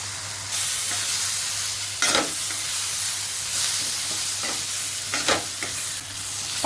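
Steady hissing sizzle from a hot pan as pineapple pieces are stirred into semolina for pineapple sheera, with a few scraping spoon strokes, no voices.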